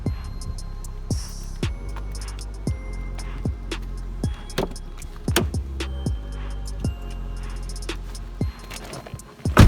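Someone climbing into a BMW E39 M5: a string of sharp clicks, thumps and creaks from the door and seat, with a busy run of interior ticks and a louder knock near the end, close and fairly quiet, with no talk.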